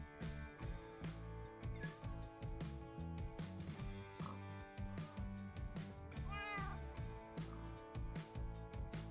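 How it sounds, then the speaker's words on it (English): A cat in the Minecraft video game meows a few times, the short rising and falling cries sitting over dense, steady background music. "get one cat in the boat with me here."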